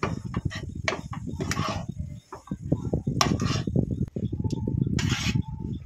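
Ground spices and chopped coriander leaves are stirred into a filling with a utensil, which scrapes and knocks against the pan in a steady run of clattering strokes close up, with no talking.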